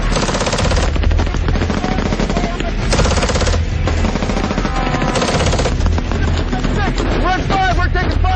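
Dense, loud gunfire in a desert firefight crackles nonstop, rapid bursts overlapping with heavy shots and machine-gun rattle, close and unbroken throughout, with shouted voices faintly mixed in.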